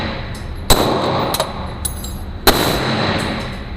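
Glock 17 pistol shots at a range, two sharp loud cracks spaced a couple of seconds apart, with fainter smaller impacts between them and a steady background hiss.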